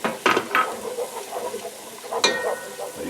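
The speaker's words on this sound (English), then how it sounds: "Now you want to stir this constantly." A spoon stirs flour into a chicken and sausage gumbo roux in a pot, scraping and clinking against the metal with a soft sizzle underneath, close and fairly loud.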